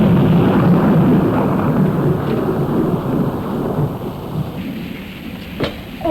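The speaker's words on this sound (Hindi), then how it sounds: "ऐसी बारिश तो पहले कभी नहीं हुई। जहाँ देखो पानी ही पानी," Heavy rain pouring steadily with a deep rolling thunderstorm rumble, loud at first and easing slightly toward the end, with a brief sharp crack near the close.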